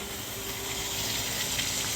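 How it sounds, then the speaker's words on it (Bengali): Water heating for tea rumbles and bubbles in a pot, a soft continuous boiling wash at low level, close by and steady with no voices. "চায়ের জল ফুটছে"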